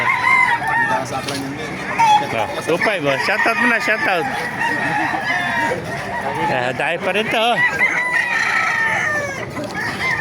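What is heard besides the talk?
roosters crowing at a chicken market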